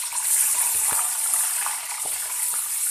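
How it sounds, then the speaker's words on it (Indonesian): Chili peppers frying in hot oil for sambal terasi, a steady close hiss and sizzle with a few faint pops, no voices. "Sekarang tinggal kita goreng cabainya ya."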